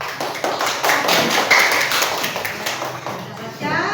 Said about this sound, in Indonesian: Tepuk tangan untuk Wow.